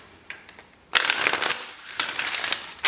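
Tarot cards are shuffled in quick riffling bursts, a brief lull followed by a loud, crisp flurry of papery flicks, close and alone.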